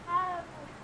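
A single short meow comes from a cat in Hogwarts Legacy on Xbox Series, heard near and fairly loud against quiet game ambience.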